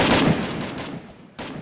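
Gunfire in a video game, loud rapid bursts of shots that fade out, then a fresh burst starts just before the end.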